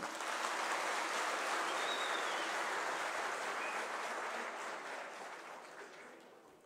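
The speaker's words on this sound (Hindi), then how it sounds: "माननीय मुख्यमंत्री महोदय के लिए, माननीय मंत्री महोदय के लिए जोरदार तालियां।" Loud, sustained applause from a crowd at a Himachal Pradesh teachers' association event honouring the chief minister, a steady wash of clapping that fades slightly toward the end.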